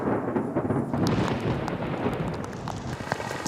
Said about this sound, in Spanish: Afuera, la tempestad ha continuado formándose y empieza a descargar.